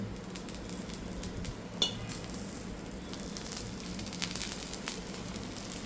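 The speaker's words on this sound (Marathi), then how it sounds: "आता आपण ह्या डोश्याच्या साईडने असं ना थोडंसं तेल टाकून घेऊ" Oil sizzles steadily around the edge of a dosa cooking on a pan, a close, continuous crackle with a few light clicks and scrapes. No voices are heard.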